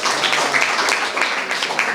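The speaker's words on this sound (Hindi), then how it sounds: "ताली बजाइए।" An audience applauds at a gathering about Madhya Pradesh government school girls, a dense burst of clapping from many hands, steady and fairly loud for its short span.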